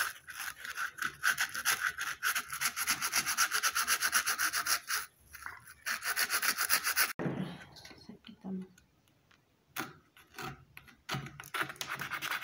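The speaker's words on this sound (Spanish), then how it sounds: "Ahora voy a usar una esponja con jabón porque también tiene mucha grasa, para quitar la mugre." A soapy sponge scrubs a greasy air compressor in steady, rasping back-and-forth strokes, close and loud, with brief pauses and a stretch of quieter rubbing midway.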